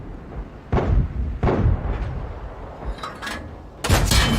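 A tank cannon firing AP rounds in World of Tanks booms several times, with heavy sharp reports spaced about a second apart and a louder blast at the end, over battle rumble.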